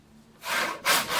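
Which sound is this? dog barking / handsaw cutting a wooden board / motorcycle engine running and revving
handsaw cutting a wooden board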